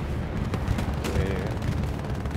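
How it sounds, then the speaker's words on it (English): Machine gun fire in a WWII online shooter video game, in a skirmish on the Driel map: a fairly faint, dense rattle of rapid gunfire bursts and shots running steadily throughout the clip. "you're getting absolutely blasted by MGs"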